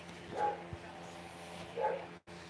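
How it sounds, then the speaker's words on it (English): A puppy gives a couple of soft yips and whimpers indoors, faint and brief, separated by quiet stretches. "You hear the puppy dog?"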